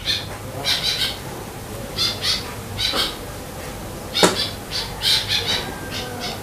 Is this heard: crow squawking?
yes